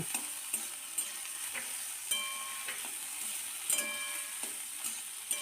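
Flat beans and eggplant fry in hot oil, a steady bright sizzle with regular soft knocks and scrapes as the pieces are stirred around the pan.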